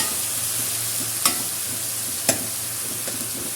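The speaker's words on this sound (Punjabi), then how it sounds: "ਵਧੀਆ ਤਰੀਕੇ ਨਾਲ ਭੁੰਨ ਲੈਣਾ" Vegetables for a cauliflower and potato sabzi sizzle in a pan, a steady hiss with a low hum beneath and two sharp clanks of a utensil against the pan, with no talking.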